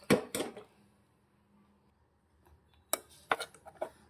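A metal pressure cooker holding brown rice pulao clanks and rattles in two short bursts separated by a quiet pause, with clattering knocks as it is shaken.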